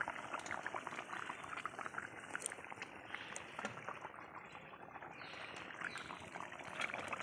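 A pot of fish curry bubbling steadily at a full boil on the stove, a continuous close wash of popping, gurgling liquid with no talk.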